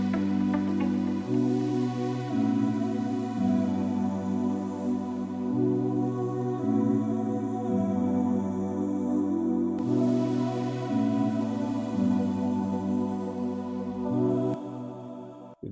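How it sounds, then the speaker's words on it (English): A soft vocal-style ambience pad from the Arcade plugin in an amapiano beat, holding sustained chords that shift every second or so. It plays steadily and alone at moderate volume, with a brief pause in the high shimmer near the middle. "vocal type of ambience,"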